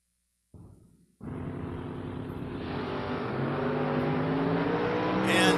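Door-car drag racing with a Mustang and a Porsche-associated car: a brief engine burst, then a roaring launch and sustained loud, rising acceleration that builds steadily toward the end.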